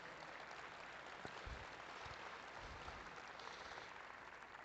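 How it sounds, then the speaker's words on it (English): Steady, fairly distant applause from the crowd at a livestock show's junior market steer drive, an even wash of clapping with a few low thumps, no voices over it. "So give all these kids a good round of applause if you would."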